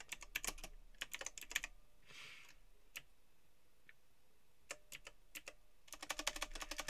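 Someone types on a computer keyboard to name a game save in Vampire: The Masquerade - Bloodlines. Close, sharp key taps come in quick bursts, then a few scattered single presses and a short rustle, then another fast burst at the end.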